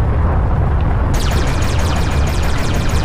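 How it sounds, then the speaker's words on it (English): A rocket blast destroys an enemy ship in the space combat game Everspace: a loud, dense, rumbling explosion that fills the whole clip, with heavy low roar and hissing debris, no talk. "Maybe send out a rocket for him. Boom, got him."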